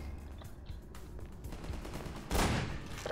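Continuous rapid bursts of fireworks crackle and bang in the Half-Life 2: Episode One video game, a dense rattling barrage that swells into a louder blast near the end, with no voices.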